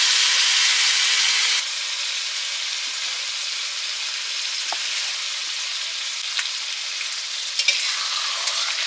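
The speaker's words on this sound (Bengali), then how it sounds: "মশলাটা জল দিয়ে কষিয়ে নিচ্ছি।" Spice paste with water is fried and stirred in a pan, giving a steady close sizzling hiss that is louder for the first moments and then settles, with a few small clicks from stirring.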